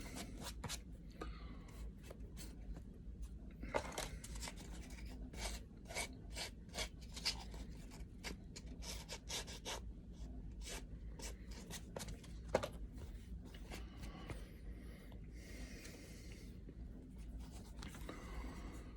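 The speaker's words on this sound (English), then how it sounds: "Sandpaper's your friend, but we don't want to overdo it either." Sandpaper rubs back and forth on a tooled leather rifle sling in soft, rhythmic rasping strokes. The sound is quiet and close, with occasional light knocks between strokes and no talking.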